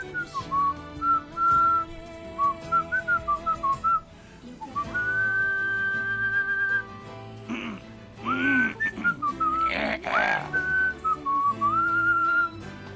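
A person whistles on a live stream, a clear melodic tune of held and warbling notes that carries on steadily, with a short break midway and some faint background noise.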